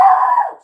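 A single short, loud dog bark or yelp, close by, trailing off quickly into silence.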